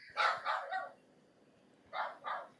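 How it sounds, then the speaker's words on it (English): Dogs bark in short bursts, two or three quick barks, a pause, then two more, moderately close with no talk over them. "I hear the damn dogs barking."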